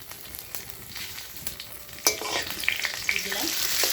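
Chopped onions hit hot oil in a wok already tempered with cumin and bay leaf; a soft sizzle swells sharply after a clatter and keeps building, close by, with light stirring scrapes.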